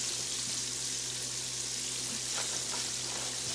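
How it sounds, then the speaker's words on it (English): Chicken drumsticks fry in a large skillet, giving a steady, dense sizzle with crackling and faint pops, close and continuous with no talking. "I'm going to put the drum part in this other skillet"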